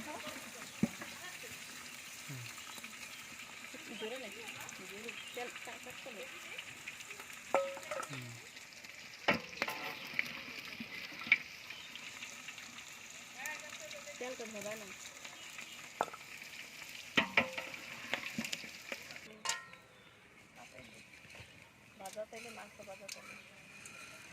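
A pan of food for chicken biryani sizzles quietly while being stirred, a faint, uneven frying hiss with scattered utensil knocks, heard under frequent talking.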